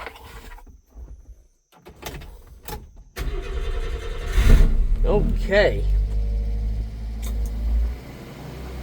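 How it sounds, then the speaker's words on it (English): A deck van's engine turns over and settles into a steady mid-pitched idle, with a mechanical clunk and rising hum as the air-conditioning compressor engages; someone speaks briefly near the start and over the running engine. "The compressor come on. And we have AC."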